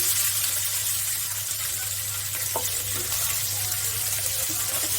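Garlic, onion and green chillies frying in a pan beside fish, giving a continuous, even hiss of hot oil with a low hum beneath and no distinct pops.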